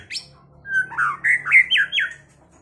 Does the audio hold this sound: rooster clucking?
no